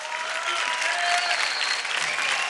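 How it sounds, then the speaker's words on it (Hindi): A studio audience at a dance show breaks into loud, sustained clapping that fills the whole moment with a dense, even roar of hands, with no pauses. "जोरदार तालियां हो जाएं हार्दिक के लिए"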